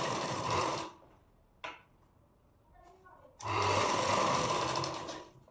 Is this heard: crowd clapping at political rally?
no